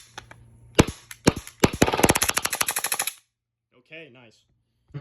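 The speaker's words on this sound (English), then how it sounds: "It's just a Glock 18C and a conversion." A Glock 18C pistol with a conversion fires a full-auto mag dump outdoors: a few loud single shots, then a rapid burst of close cracks. The gunfire is followed by quiet and brief voices.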